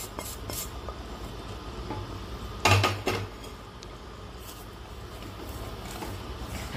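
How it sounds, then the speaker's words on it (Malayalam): A spoon scrapes and clinks against a pot while jackfruit erissery with roasted coconut is stirred, with a single louder clatter near the middle over steady low kitchen noise. "നന്നായിട്ടൊന്ന് ഇളക്കി കൊടുക്കുക."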